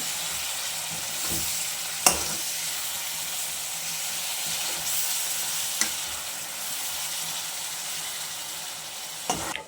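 Fenugreek leaf curry hissing loudly in a hot pan, broken only by a few sharp scrapes and taps as the mixture is turned over.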